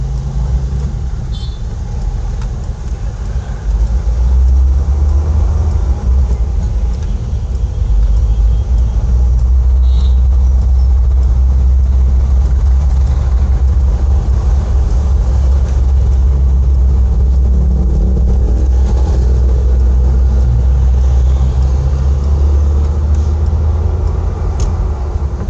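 A vehicle engine idles steadily with a low, continuous rumble that stays close and unchanged for about 25 seconds, with no voices over it.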